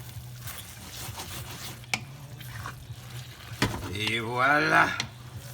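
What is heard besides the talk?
stirring shrimp into tomato and coconut milk sauce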